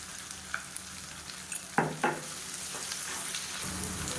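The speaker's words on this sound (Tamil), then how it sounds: "வெங்காயம் வதங்குறதுக்கு உப்பு சேர்த்துக்கணும்" Onions and garlic fry in a pan with salt, giving a soft, steady sizzle. Two clear scraping stirs stand out midway, with a few lighter clicks around them.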